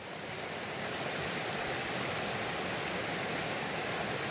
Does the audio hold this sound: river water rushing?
yes